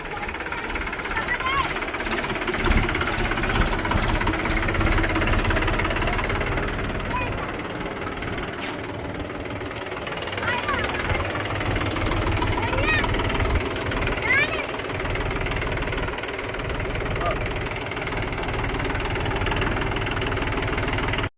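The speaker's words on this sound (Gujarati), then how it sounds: "જો અત્યારે ટ્રેક્ટર લઈને આપણે આવી ગયા છીએ" A tractor engine runs nearby with a steady, knocking idle throughout, while people talk over it.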